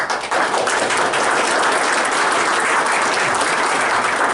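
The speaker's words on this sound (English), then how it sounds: "we could give him a round of applause" A conference crowd at a state legislators' tax policy breakout session gives Senator Hanger a round of applause: dense, steady clapping that stays loud and even from start to finish.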